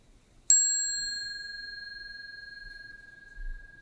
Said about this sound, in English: the facilitator may like to invite the sound of the bell